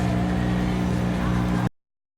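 A Fiat 500F in Gran Turismo Sport buzzes along with a loud, steady, close engine drone that cuts off abruptly after under two seconds.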